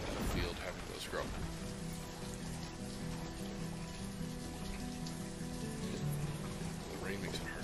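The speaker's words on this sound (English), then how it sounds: "The rain makes it hard to see." Rain falling in the video game Banished, a steady soft hiss of drops on surfaces, fairly quiet, with a low hum under it.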